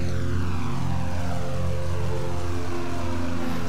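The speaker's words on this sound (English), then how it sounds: "The plane sounds cool, don't it?" A Catalina propeller plane engine in the flight simulator Prepar3D drones loudly and steadily, a constant buzzing hum with no voices.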